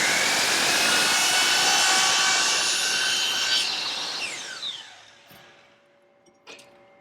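A saw cuts the end off a mitered wooden picture frame piece with a steady, close rasping rush that gradually fades, then a few small knocks and clicks before quiet.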